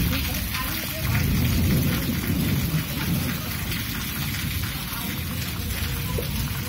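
Heavy rain lashes down through a wind storm, a loud continuous roar with rumbling low thunder swelling near the start, steady throughout.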